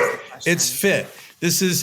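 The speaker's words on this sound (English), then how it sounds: "sorry everyone, that's my dog" A pet dog named Ruby barks in short excited bursts at home, close and loud, mixed in with a person talking over and between the barks.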